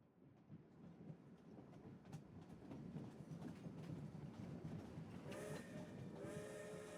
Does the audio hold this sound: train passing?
yes